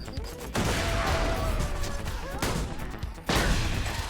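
Grenade explosions and gunfire in Borderlands 2, dense continuous rumbling blasts and rapid shots with louder bursts starting and stopping, with faint voice underneath.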